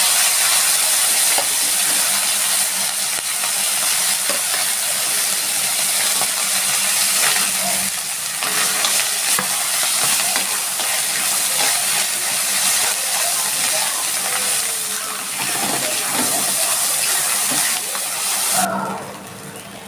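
Bitter gourd frying in hot mustard oil with dried red chillies gives a loud, steady sizzle and hiss that runs unbroken and close, easing slightly at the very end.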